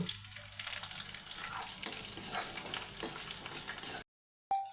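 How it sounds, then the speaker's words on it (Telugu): Onions, green chilies and curry leaves fry in hot oil in a pan with a steady, close, dense sizzle and faint stirring. The sizzle cuts off abruptly near the end. "ఉల్లిగడ్డ కొద్దిగా వేగిన తర్వాత పచ్చిమిర్చి ముక్కలు కరివేపాకు"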